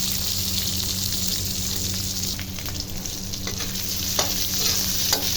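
Chorizo bilbao and Spam fry in a pan while being stirred, with a constant loud sizzle and a low steady hum underneath. Occasional utensil scrapes and clicks stand out near the end.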